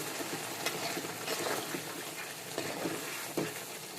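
Dried hilsa fish frying in oil in a pan and being stirred: a steady soft sizzle with occasional scraping strokes of a utensil, close and fairly quiet, with no talking.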